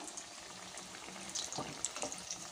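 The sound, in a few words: pea cutlets frying in oil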